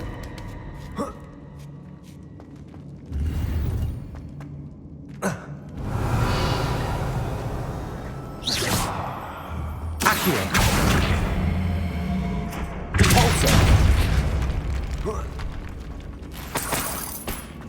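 Spells in Hogwarts Legacy fire off in bursts of whooshes, cracks and shattering blasts, several loud swells separated by quieter gaps, with a voice calling out now and then.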